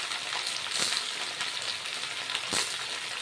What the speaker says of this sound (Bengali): হালকা ভেজে নেব সবজি কিন্তু একদম অতিরিক্ত ভাজবো না